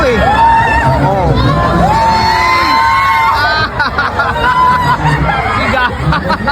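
Riders screaming and whooping on a spinning 360 amusement park ride, loud continuous crowd shrieks and cheers close by, with voices talking mixed in.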